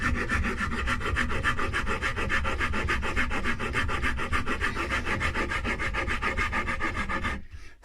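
A belly carve being cut into an already-painted wooden guitar body, heard as fast, even, rhythmic rasping strokes of a rasp or sanding tool on wood, loud and close, stopping abruptly near the end.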